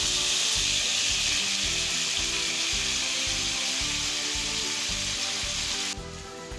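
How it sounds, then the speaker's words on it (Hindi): Mixed vegetables with chicken and peas sizzle loudly and steadily in a hot pan for restaurant-style fried rice, a dense continuous hiss with rhythmic stirring scrapes underneath, close up, no voices. "सब्जियों को भी तकरीबन 1 से 2 मिनट में फ्राई करूंगी"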